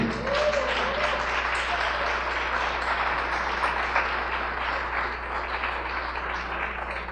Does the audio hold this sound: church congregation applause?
yes